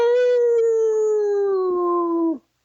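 A person imitating an old dog's howl on a call-in show: one long, loud, close howl that starts high and slowly sinks in pitch for over two seconds, then cuts off abruptly into silence.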